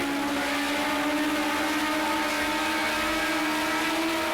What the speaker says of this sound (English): there goes the BMW, puts his foot down and away he goes